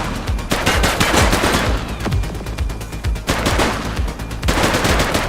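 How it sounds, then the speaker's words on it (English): Rapid bursts of automatic gunfire and single shots in The Precinct police shooter game, loud and close, with dense repeated cracks over several seconds. "She's shooting!"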